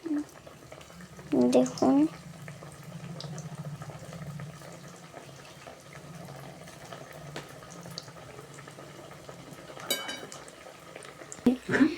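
Cauliflower chop pieces frying in oil in a pan at home, a steady low sizzle and bubbling running throughout, with brief louder clatter and a voice speaking over it near the start and end.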